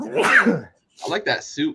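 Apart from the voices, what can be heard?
sneeze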